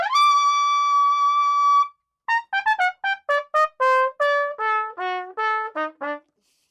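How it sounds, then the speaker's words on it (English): Trumpet playing alone, a long sustained bright note followed by a run of short detached notes of varying pitch, clear and close with brief gaps between them. "That's a lot of energy coming out of the trumpet."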